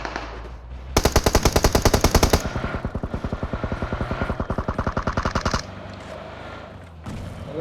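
Gunfire in the mobile game PUBG Mobile: loud, rapid automatic bursts of machine-gun shots in a fast steady rhythm lasting several seconds, then a short pause and a brief final burst.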